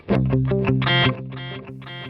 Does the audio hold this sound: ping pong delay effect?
yes